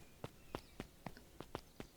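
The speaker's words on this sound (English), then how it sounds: "Luca heard a group of footsteps approaching" A group of footsteps approaches in the video game Beacon Pines on Switch 2: about seven quiet, evenly spaced steps in a soft crunching rhythm, alone with no talk.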